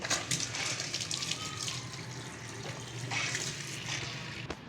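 Tap water runs in a steady, gushing stream for someone rinsing their mouth, a continuous close hiss with small splashing variations throughout.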